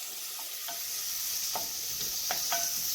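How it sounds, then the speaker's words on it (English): Lettuce and onions sauté in a hot pan, a steady close sizzle with a few light stirring scrapes on top, no voices. "And then you saute them together, the lettuce and the onions."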